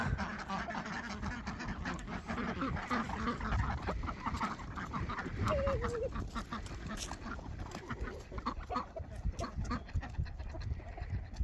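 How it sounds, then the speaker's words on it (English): Farm ducks and chickens let out of their gate make a noisy chorus of quacks and clucks at close range, with rustling movement and no clear talking. "I love it how all the chickens and the ducks get loud whenever they see me walk out"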